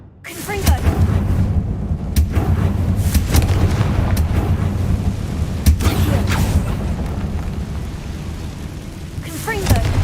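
Confringo fire spell blasts in Hogwarts Legacy, heavy booming explosions repeating over a steady rumbling game backdrop, loud and close, with a voice calling out over them.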